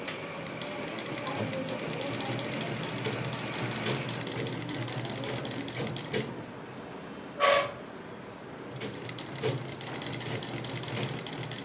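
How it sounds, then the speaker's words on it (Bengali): A sewing machine hums and rattles steadily while stitching a churidar neckline with placket border, a continuous close mechanical whir broken by a brief clack near the middle. "এইভাবে আমি সোজা সেলাই করে নিব"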